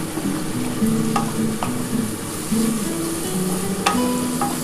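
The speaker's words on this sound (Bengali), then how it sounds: "এবার চিনিটা দিয়ে ভালো করে নাড়াচাড়া করতে হবে।" Beetroot mash with sugar being stirred in a hot pan, a steady close sizzle with the scrape and knock of a spoon against the pan recurring throughout, no voices.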